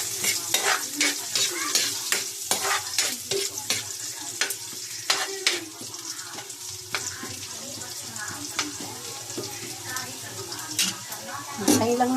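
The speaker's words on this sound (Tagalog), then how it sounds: "Hintayin lang natin mag-brown yung luya at saka yung bawang." Ginger and garlic sizzle in hot oil as they fry toward brown, with steady crackling and frequent stirring scrapes and clinks of a utensil against the pan throughout.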